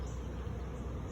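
Honeybees hum steadily in a dense, close buzz while a hive frame is inspected, with no voices over the sound.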